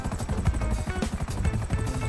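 A helicopter comes in to land in GTA 5 during a mega ramp challenge. The rotor chop and engine drone are loud and steady, with a rhythmic pulsing throughout.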